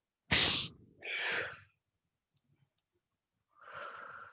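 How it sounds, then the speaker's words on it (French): Someone blows out hard through the nose and mouth during a relaxation breathing exercise, a sharp loud rush of air followed by a softer second exhale, a silent gap, then another breathy exhale. "vous allez souffler très fort par le nez et par la bouche en lançant les bras devant vous"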